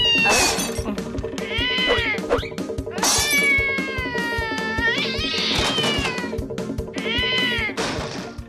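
A cat yowls and meows repeatedly while chasing a mouse, long rising and falling wails standing out loudly over a steady rhythmic clatter, with no talk.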